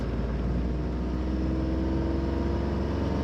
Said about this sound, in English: Just a hum coming from the car for acceleration. You can hear the engine.